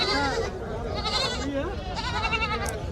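Young goats bleat repeatedly in a busy rural livestock market on a riverbank, short wavering cries over crowd chatter and people talking nearby.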